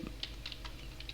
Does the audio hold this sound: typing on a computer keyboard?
yes